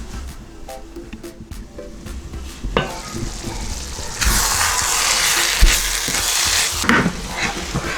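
Chicken pie filling for a Nigerian chicken pie bubbling in a pot with clinks and scrapes of a utensil and lid, then a louder steady hiss and sizzle in the second half.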